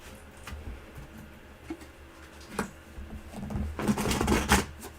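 Rapid crisp riffling of cards, building to a denser flurry of papery shuffles near the end, close by with no talking.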